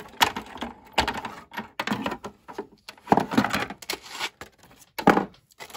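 Card being cut during card making: a close, crisp series of scraping, crunching bursts that come in uneven strokes with short pauses between them.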